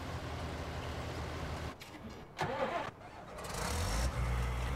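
A tractor engine in a farming video game, with a steady engine drone that cuts out briefly, catches again and settles into a louder idle toward the end.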